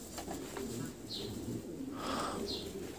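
King pigeons coo softly nearby, with a couple of low, rounded coo calls rising out of quiet background noise.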